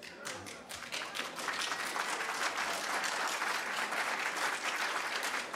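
Clapping and applause fill a council chamber, steady, dense and fairly close, running throughout without a break.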